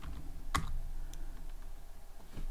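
Someone types a short burst on a computer keyboard, with a few crisp clicks at uneven intervals against a quiet room background and no talking.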